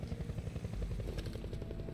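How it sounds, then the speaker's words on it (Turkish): Helicopter in the video game Crysis 3 Remastered, a steady low rotor chop with a rhythmic thumping pulse, held at an even moderate level throughout with no talk over it. "Helikopterin sesini duydum."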